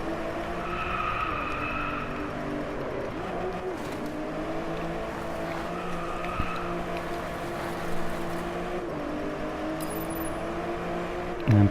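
Car engine revving steadily through a drift in the racing game DriveClub, a continuous droning motor tone with brief shifts in pitch, holding at a constant level throughout.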